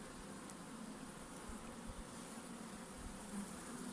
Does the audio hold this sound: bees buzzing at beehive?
yes